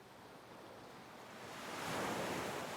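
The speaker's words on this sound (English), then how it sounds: "I think I'll continue with the ocean sounds at a low volume to continue the beach theme" Quiet ocean surf washes steadily with a soft hiss, swelling a little louder toward the end, with no voices.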